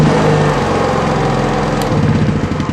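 A small portable generator engine runs at a bush camp, a loud, close, steady rattling putter that wavers slightly as it settles.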